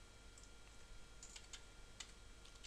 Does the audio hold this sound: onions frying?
no